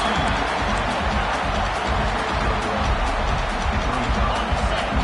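A big stadium crowd at a college football game between Eastern Michigan and the Eagles, cheering near the goal line, as a dense, steady roar that fills the whole stretch without letting up.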